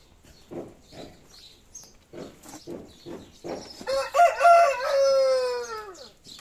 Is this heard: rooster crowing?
yes